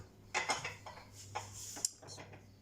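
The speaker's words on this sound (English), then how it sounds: "Let's give this a little stir and we'll bring it to the boil." A spoon stirs a chorizo, bean and potato stew in a pot, giving a handful of quiet, irregular clinks and scrapes against the metal, with short gaps between them.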